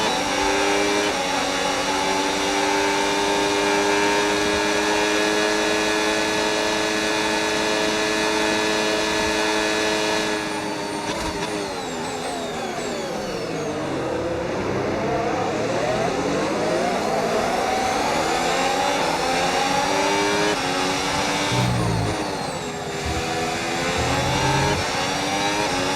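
Formula 1 car engine in a racing video game, a continuous high whine that eases off during lift and coast, sweeps down and back up, then surges again under boost on corner exit.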